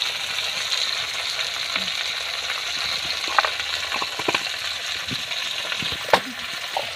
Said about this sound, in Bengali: রান্নাটা খুলে এবার ভালোভাবে নেড়ে নিতে হবে।